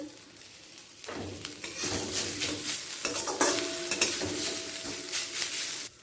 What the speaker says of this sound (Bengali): আদা বাটাটা দিয়ে মশলার সাথে ফোড়নের সাথে একটু ভেজে নেব